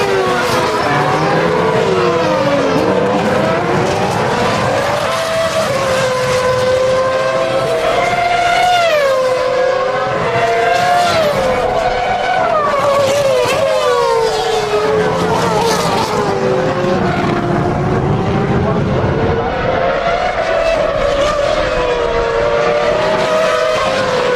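Formula 1 cars race at the 2007 Bahrain Grand Prix, loud engines wailing and sweeping up and down in pitch as they pass, with crowd and track noise beneath and a commentator talking over it.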